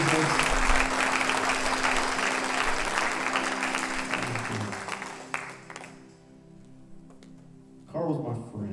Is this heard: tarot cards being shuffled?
no